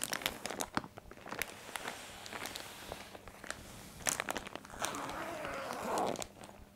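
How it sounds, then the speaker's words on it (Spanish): A latex pillow is unwrapped from a handled plastic cover, with a close series of irregular crinkles, rustles and crunching handling noises, faint and steady. "solamente tienes que desembalarla con una funda de plástico que lleva un asa"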